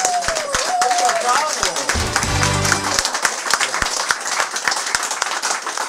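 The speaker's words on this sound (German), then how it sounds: "Ein schöner Applaus für die Caro, hat sie gut gemacht." Audience applause for Caro at a Cologne talk-show evening, a burst of clapping with sharp individual claps cutting through, mixed with crowd noise and a voice talking over it partway through.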